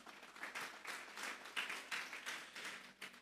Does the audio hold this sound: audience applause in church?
yes